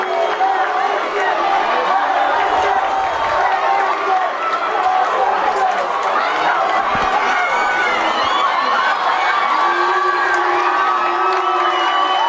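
A crowd of over 5,000 at UCCU Ballpark cheers and shouts steadily through a high school championship series baseball game between Corner Canyon and Lehi. The roar is loud and continuous, with an announcer talking underneath it.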